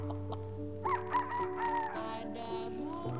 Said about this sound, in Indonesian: Ada ayam.